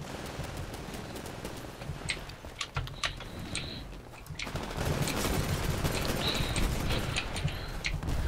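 A semi-automatic DMR fires in the video game Titanfall, with sharp single shots in a loose, uneven rhythm over a dense bed of battle noise that grows louder partway through.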